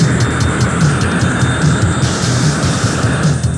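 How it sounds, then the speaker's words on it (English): A Grumman X-29 experimental jet with forward-swept wings flies by, giving a steady, fairly loud engine rumble and hiss that holds without pause. "The Grumman X-29 looks unusual."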